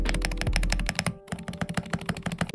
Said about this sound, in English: let's first listen to the keyboard and how it sounds.